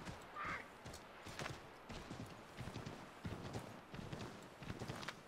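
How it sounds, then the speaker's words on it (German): Horse hooves clip-clop in a quick, steady rhythm as a horse is ridden at speed in the video game Assassin's Creed 3, faint and thin with light ambient noise behind. "Auf einem Pferd sprinten."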